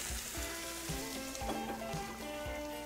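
Potatoes dropped into very hot oil in a frying pan sizzle and crackle steadily, with soft knocks from the pan and a faint tonal hum running underneath.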